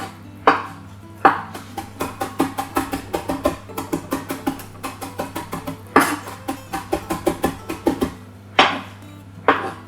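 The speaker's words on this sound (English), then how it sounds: "so there we have our chopped coriander." A knife chops fresh coriander on a board in a quick, steady rhythm of close, crisp taps, with a few heavier strokes at the start and near the end, with no talking.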